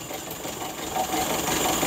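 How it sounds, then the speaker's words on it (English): The 1925 Maxwell engine idles with one spark plug wire pulled off, so it runs on fewer cylinders. It makes a steady, close mechanical hum and clatter throughout, with no voices. "Hear the change in the way the engine's running?"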